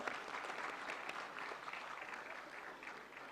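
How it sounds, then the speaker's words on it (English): Audience applauding award winners on stage at a National Consumer Day celebration, a steady wash of many hands clapping throughout at moderate, even loudness. "Please give these candidates a big round of applause."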